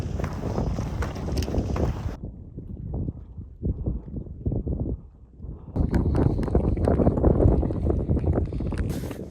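Wind buffets a microphone high on Mount Baker near the summit, a loud continuous rumble and roar that drops off for a few seconds, then surges back strongly.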